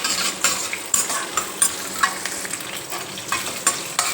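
Green chillies frying in a pan for dondakaya pachadi, a close crackling sizzle under regular clinks and scrapes of a spoon stirring, with no talking.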